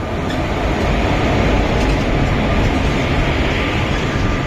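The Konkan Kanya Express train arrives on the Konkan railway, giving a loud, close, continuous rumble and roar of rolling stock that holds steady across the whole stretch, with no talk over it.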